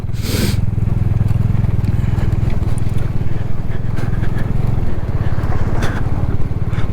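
A motorcycle rides a rough Ladakh mountain road between Khardung La and Turtuk over loose stones, its engine a steady, loud, close drone under rushing wind, with a few brief scrapes and knocks.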